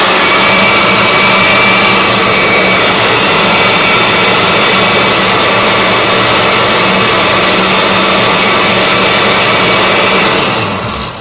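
A blender whirs loudly and steadily while mixing a drink of papaya, cucumber and kiwi strawberry, a dense continuous roar that runs unbroken for about eleven seconds before cutting off at the end.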